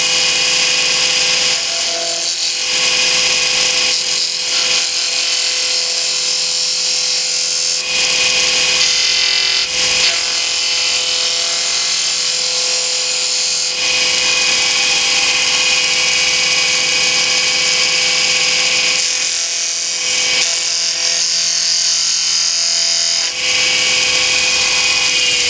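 A skew chisel cuts wood on a lathe while squaring the shoulders of an ornament body segment, a steady motor whine with a continuous scraping cut, fluctuating slightly as the tool works, with no talking.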